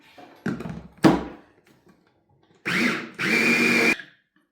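A kitchen blender whirs in short pulses while mixing pesto genovese, two brief bursts followed by two longer loud runs of motor grinding with a pause between.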